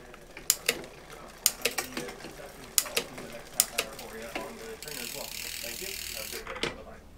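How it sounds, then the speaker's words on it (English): Rear derailleur cable tension is adjusted on a 2018 Giant Trance 4 mountain bike, producing a series of crisp, close mechanical clicks and ratcheting ticks over a steady background. "I gotta tighten the cable tension"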